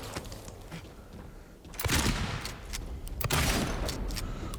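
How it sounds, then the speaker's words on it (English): Gunfire in the video game Silent Hill 2, a few sharp shots with echoing tails against a murky ambient background, the reports spaced irregularly with no talk over them. "So we've gotten 3 shots on him already. 4 shots."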